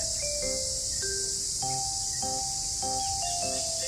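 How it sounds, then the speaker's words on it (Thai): Crickets chirp loudly after rain among lush trees at a forest temple, a steady high-pitched drone that fills the whole recording, with a few short tonal calls rising and falling over it. "เสียงจิ้งหรีดเลไลก็ ร้องเสียงดังมากเลยค่ะ ได้ยินไหมคะ"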